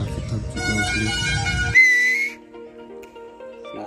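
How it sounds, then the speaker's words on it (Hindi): People whistle during a trip to Ayodhya, Uttar Pradesh: a shrill, sustained whistle rises over a noisy, busy background with voices, then lingers more faintly as the din drops away. "सीटी मारा थे लोग।"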